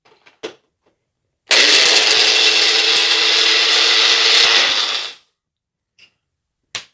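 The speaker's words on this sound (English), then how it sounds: "So I'm just going to use one of these personal blenders." A personal blender whirs loudly through freeze-dried mango for about three and a half seconds, a harsh, gritty motor roar that starts abruptly and winds down, framed by a few brief clicks and knocks before and after.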